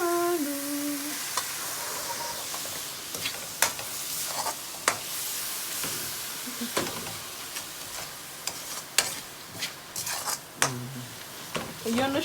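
Long green chilies frying in a pan for binagoongang baboy, a soft steady sizzle broken by sharp ticks and clinks of a utensil stirring against the pan, with brief voices in the background.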